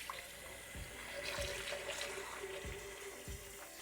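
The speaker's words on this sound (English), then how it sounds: "So, I'm filling up my blender with some nice hot water." Hot water runs steadily from a tap into a blender for rinsing, a soft continuous splashing and trickling with a few low knocks and thuds, heard alone at low level.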